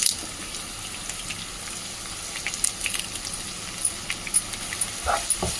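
Onions frying in a pan with curry leaves for mutton fry, giving a continuous moderate sizzle and crackle with scattered louder pops and light stirring toward the end.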